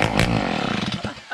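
A freshly rebuilt mob-cross moped two-stroke engine starts and revs, a loud raspy buzz rising and falling in pitch, close by, briefly easing off before picking up again.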